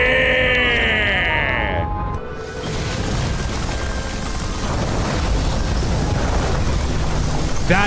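A loud explosion in the video game Nobody Wants to Die, a sustained roaring boom with rumbling debris that fills the clip, after an earlier whine cuts off.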